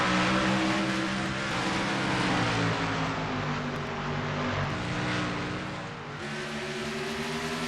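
Several race car engines roar together on a restart at Bristol in a racing video game, a loud, dense drone with pitches rising and shifting as the cars accelerate, with no talking.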